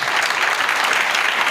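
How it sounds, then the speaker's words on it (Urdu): A church congregation claps loudly and steadily, a dense, even roar of many hands that holds at full strength from start to finish with no voices standing out. "آئے یسوع کے لیے زوردار تالیاں دیں"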